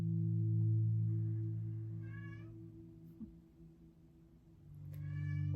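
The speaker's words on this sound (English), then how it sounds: "We're just going to let the meowing be a contribution to our practice today." Cat meowing indoors during a quiet mindfulness session, two or three drawn-out meows spaced apart over a steady low hum, clear and fairly close with no talking.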